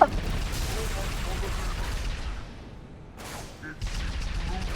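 Enemy soldiers fire in Halo 3, a steady rattle of gunfire and blasts with sharper bursts near the end, while a player talks over it.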